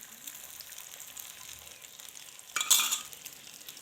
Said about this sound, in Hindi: अब ये घी गर्म हो गया है। अब मैं इस पर अंडा डालती हूँ।